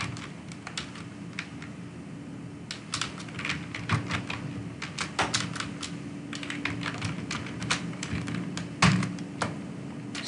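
Rapid clicks of a computer keyboard as someone types code, irregular bursts of keystrokes with short pauses, close and crisp, no speech.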